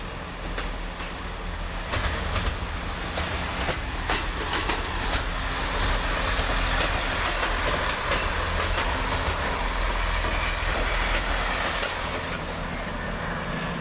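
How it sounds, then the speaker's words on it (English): A train pulls out of Oxford station on the cross-country service from Southampton Central to Newcastle. Its rumble and clattering wheels are steady and fairly loud, with occasional squeals and no voices. "Now leaving the 1707 cross-country service from Southampton Central to Newcastle."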